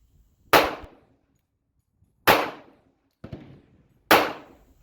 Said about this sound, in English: And there it goes, another click.